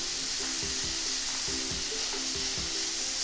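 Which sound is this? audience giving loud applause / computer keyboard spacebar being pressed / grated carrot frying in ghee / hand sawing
grated carrot frying in ghee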